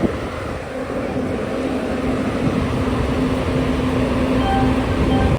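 A WAP-7 electric locomotive starts up at Tirupati station ahead of the Vasco da Gama Express, giving a loud steady hum and rumble with a faint tonal whine that holds throughout.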